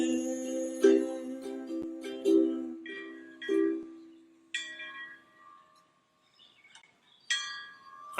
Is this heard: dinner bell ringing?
yes